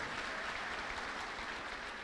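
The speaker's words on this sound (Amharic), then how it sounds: "እስቲ አጨብጭቡ ለጌታ ለኢየሱስ ክርስቶስ" A church congregation claps together in a dense, steady burst of applause, even and continuous throughout, heard from a moderate distance.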